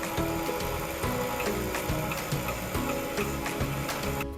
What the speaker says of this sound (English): Now add your 2 eggs to the mixer and mix on low until fully combined.